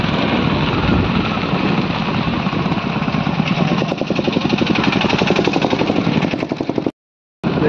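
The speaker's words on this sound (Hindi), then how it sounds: "देखिए अभी हम लोग बाइक पर बैठे हुए हैं" Motorcycle engine running steadily while riding along a village road beside farm fields, a loud close drone with a continuous rough vibrating throb that cuts out briefly near the end.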